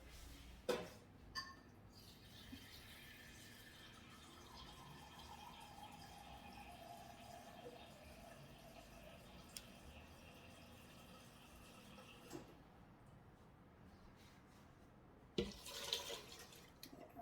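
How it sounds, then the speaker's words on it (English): Water pours steadily into an Instant Pot pressure cooker while apple cider is being made, a continuous soft stream running for about eleven seconds before stopping, with a couple of brief clunks near the start and end. "I'm just going to add 2 more cups of water."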